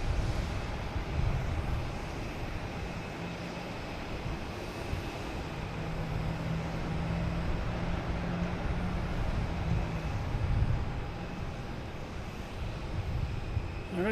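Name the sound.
Delta airliner taking off at Boston Logan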